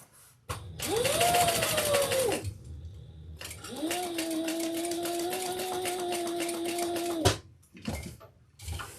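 A sewing machine back stitching a handbag runs in two steady bursts of motorized whirring, a short run followed by a longer one, with brief handling clicks between and afterward, fairly close and clear.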